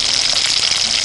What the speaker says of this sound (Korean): 송어 기름튀기를 하고 있습니다.